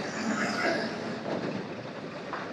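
Steady rumbling and clattering of trains at Narsapur railway station, Andhra Pradesh, a continuous dense wash of mechanical noise with no clear voices.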